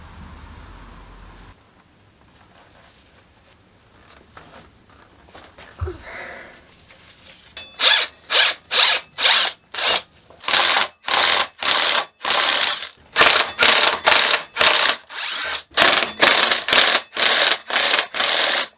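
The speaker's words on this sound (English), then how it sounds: "I'm torquing these to 25 foot-pounds" A torque wrench ratchets bolts tight to 25 foot-pounds on a custom Kawasaki army motorbike. After a quiet stretch with a faint sniff, loud rapid ratcheting clicks come in repeated bursts, close and rhythmic.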